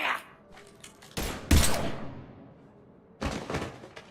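Bursts of gunfire in the video game Mass Effect 3. Several sharp, loud shots come in clusters with quiet gaps between them, alone and close.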